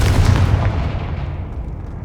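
A Confringo blasting curse goes off in the Hogwarts Legacy video game, landing as a heavy, booming explosion with a deep low rumble that fades out over about two seconds.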